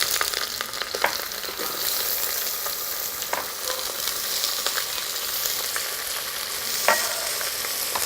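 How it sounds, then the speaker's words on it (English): Red onions sizzle steadily in a hot pan of smoking oil, a dense continuous frying hiss with a few brief stirring clicks and scrapes near the end, close and fairly loud without any talking. "So now I'm just gonna add these onions in"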